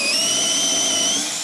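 A power drill whines at a high steady pitch while drilling into wood, running continuously with a slight dip in speed near the end, close and loud.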